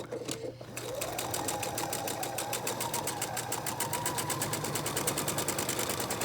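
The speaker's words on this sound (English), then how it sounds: "I'm gonna stitch just like a hair inside that little point right there." A sewing machine stitches a quarter-inch quilting seam, its rapid needle clatter starting after a brief pause and then running steadily and close for several seconds with no talking.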